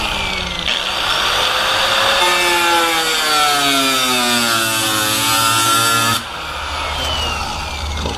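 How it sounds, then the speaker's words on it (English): An abrasive cutoff wheel whines loudly and steadily while grinding into rusted body metal on an El Camino, its pitch shifting as it bites, then dropping to a lower spin-down hum. "We're gonna get the cutoff wheel."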